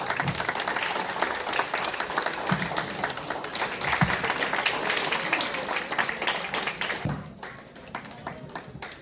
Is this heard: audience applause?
yes